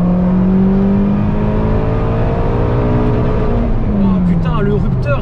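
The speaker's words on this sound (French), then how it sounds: "le rupteur il monte haut" Heard from inside the car, a Peugeot 206 RC engine drones loudly and steadily, its pitch climbing through the gears. Near the end it rises toward the rev limiter, then falls, with road and wind noise underneath.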